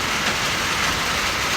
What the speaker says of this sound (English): Rain on a metal roof.